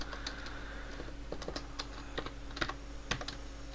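Clicky keystrokes on a computer keyboard sound in quick irregular bursts, close and fairly quiet, with a few sharper key presses standing out.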